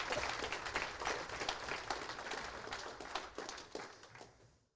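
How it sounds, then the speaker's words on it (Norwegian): Audience applause at a corporate product unveiling event, a steady wash of clapping that gradually thins and dies away to silence. "jeg tror vi må bare ta en applaus til for det"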